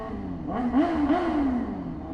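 A Yamaha R6 motorcycle engine revs up and down a couple of times while stopped, its pitch rising and falling in quick throttle blips over a steady low idle.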